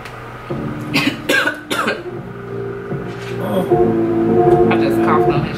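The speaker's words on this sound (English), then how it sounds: "I just coughed on this shit." A man coughs, loud and close, in a few sharp bursts early on during a music reaction, with rap music playing in the background and some talk.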